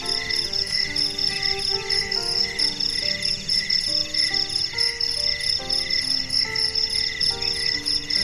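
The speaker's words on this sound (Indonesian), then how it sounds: "suara jangkrik, suara burung malam, hembusan angin" Crickets chirp in a constant, shrill, pulsing chorus at night in a pine forest campground in Puncak, Bogor, with soft melodic tones underneath throughout.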